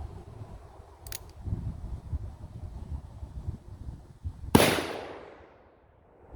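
A single loud gunshot from a .454 Casull revolver fired outdoors past a chronograph, a sharp blast near the end followed by a long fading echo, preceded by quiet rustling, wind and a brief click.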